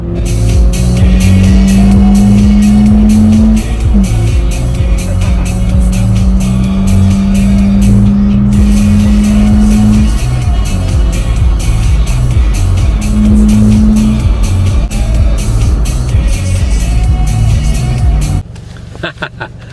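Toyota GT86 (FR-S) fitted with a Sprint Booster throttle controller, driven hard: a loud, close engine drone with rising and falling revs runs steadily for most of the clip, then drops away near the end.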